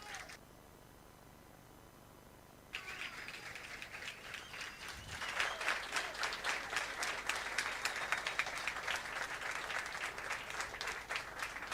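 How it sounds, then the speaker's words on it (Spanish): An audience at a Peronist political rally breaks into applause after a quiet opening, the clapping swelling into a dense, sustained roar that continues to the end without talk. "les pido un fuerte aplauso"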